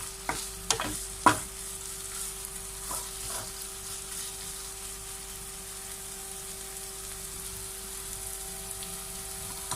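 Chicken shawarma filling with ketchup is stirred in a pan, a few sharp utensil knocks early on, then a quiet, steady sizzle beneath a faint constant tone, with no one speaking.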